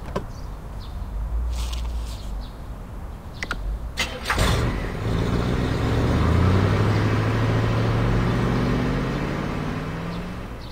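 Car engine in the Ice Scream horror game, a few clunks and a door-like thud, then a motor revving up and droning steadily at a moderate level, with no talk.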